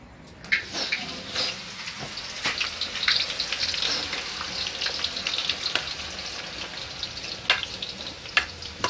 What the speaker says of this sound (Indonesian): rempah-rempah yang ada ini ditumis duluan